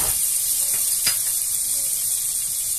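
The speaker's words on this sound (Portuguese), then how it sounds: "vamos colocar uma colher generosa de manteiga na nossa panela," Butter melting in a hot pan on the stove at the start of a creamy shrimp risotto, giving a steady broad sizzle throughout with a brief stirring scrape near the middle, close and fairly loud with no talking.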